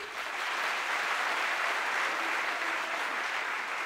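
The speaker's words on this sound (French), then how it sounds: "je remercie l'assistance pour les applaudir. Applaudissez-les." Audience applauding at a political opposition gathering choosing its presidential candidate, a sustained, even roar of many hands clapping at moderate distance, steady throughout.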